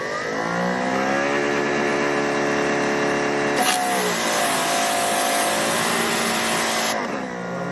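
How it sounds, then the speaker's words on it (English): A Greenworks 3000 PSI electric pressure washer starts up and runs beside a car: a loud, steady motor whine with layered harmonic tones, whose pitch and texture shift partway through as the spray kicks in. "So put that on there and let's start it up."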